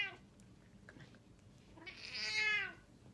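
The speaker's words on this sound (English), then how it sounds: "I'm going to pick her up so you can see what she's going to scream, because she's done that since she was a kitten." A pet cat lets out a long, loud drawn-out scream-like yowl when picked up, rising and wavering for about a second after some quiet handling noise, close to the listener.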